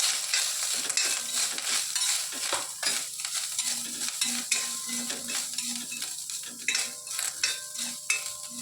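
Grated coconut roasting in a pan sizzles softly while a utensil stirs and scrapes it in steady, repeated strokes, close up with no talking.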